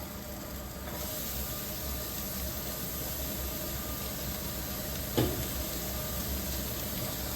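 Chopped onions and carrots sizzle in a hot pan while being sautéed for Schezwan mushroom rice, a steady close frying hiss with one brief clink of a utensil partway through.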